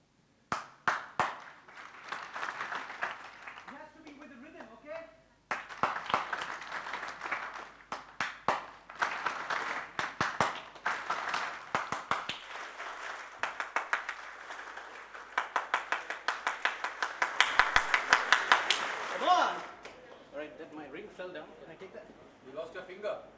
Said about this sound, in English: You have to clap in a fashion I will be clapping